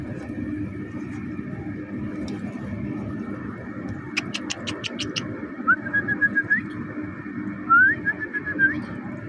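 Pigeons crowded in their coop make soft cooing and a few brief whistles over a steady background hum.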